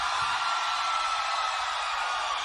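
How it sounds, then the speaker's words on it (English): Women in the crowd at a 1991 concert in Indiana scream, a dense, unbroken roar of high-pitched shrieks that stays loud and steady throughout. "Oh, listen to those dick-crazed women screaming."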